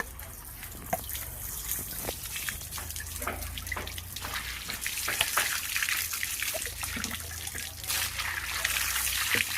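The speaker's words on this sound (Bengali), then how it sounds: "এখন এই পাতাটাকে আমি ভালো করে ধুয়ে নেব ঝাঁকাতে করে।" Skunk vine (gandho bhadali) leaves are washed by hand in a basket, with water trickling and splashing steadily. Soft rustling and dripping carry on throughout at close range.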